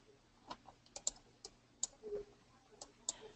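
Faint, sparse clicks of a computer mouse come one after another at an uneven pace, with a Control and Shift key combination held down, against a quiet, near-silent room.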